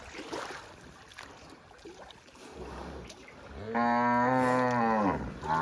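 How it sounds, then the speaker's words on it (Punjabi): Tethered buffaloes eat fodder on a hot farm day. Faint rustling and shuffling come first, then one loud, close, drawn-out moo of about a second and a half. "ਮੱਝਾਂ ਬੰਨ ਦਿੱਤੀਆਂ ਨੇ ਪੱਠੇ ਖਾਂਦੀਆਂ ਨੇ"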